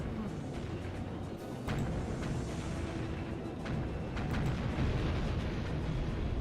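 Tank fire and explosions rumble through a Codename Eagle battle, with dense low booms and several sharp impacts and crashes layered over steady combat noise, all loud and continuous.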